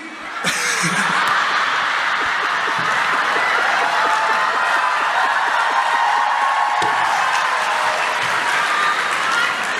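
Loud sustained applause from a large church congregation, with scattered laughter and chuckles mixed in throughout.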